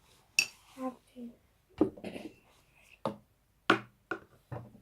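Utensil scraping and clinking against a bowl as homemade slime is stirred, in short bursts with pauses between them, with people talking nearby.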